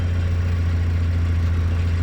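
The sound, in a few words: Porsche 944 engine running with power steering pump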